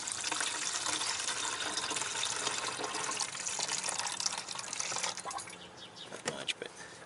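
Water pours into a Jeep's cooling system during a water pump job, a steady splashing, gurgling stream that runs continuously, then breaks into a few uneven splashes and drips near the end.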